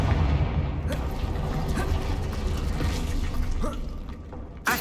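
Confringo fire-blast spell cast in Hogwarts Legacy, a crackling fiery burst over a low rumbling bed, with sharp snapping impacts and a final cracking hit near the end.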